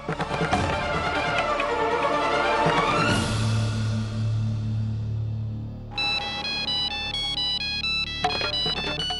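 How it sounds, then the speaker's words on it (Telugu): A loud electronic ringtone plays a repeating melodic jingle, shifting to a brighter chiming pattern partway through. "నాన్న కార్తీక్, ఒకసారి అమ్మాయికి ఫోన్ చెయ్యి."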